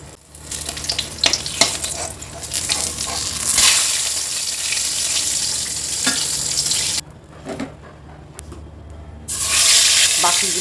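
Slices of pointed gourd (potol) frying in oil in a village-style home kitchen, with a loud continuous sizzle and crackle. Scraping and clattering come from turning the pieces, and there is a brief quieter stretch midway before the sizzling swells again.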